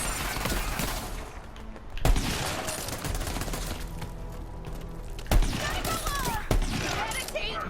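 Rapid gunfire bursts from the video game Borderlands 3 during a sniper fight on a feudal planet, dense continuous shooting with a few louder impact thumps over steady game sound.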